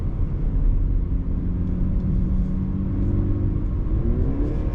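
A 2021 BMW 330i engine hums steadily up close, its pitch rising and dropping as it moves through gears, with a constant low rumble underneath.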